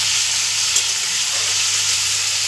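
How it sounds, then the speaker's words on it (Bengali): Food frying in oil in a pan over low heat, a continuous even hiss and sizzle at close range, alone and unbroken for the whole moment. "একটু সময় লাগবে ভাজতে, কেননা আঁচটা কমিয়ে রাখবো ওই জন্য।"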